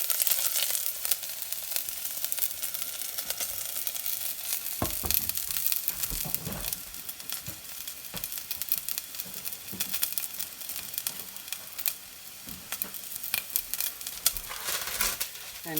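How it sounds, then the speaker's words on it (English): Garlic tossed into smoking-hot sesame oil sizzles and crackles steadily, a close, continuous frying hiss with scattered pops and stirring sounds. "I'm going to use some sesame, which smokes a lot, so I'm going to work quickly. Toss in my garlic."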